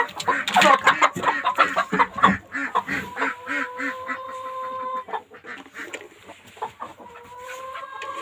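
Several free-range hens cluck and squawk busily up close, a dense, overlapping chorus with a few higher drawn-out calls mixed in.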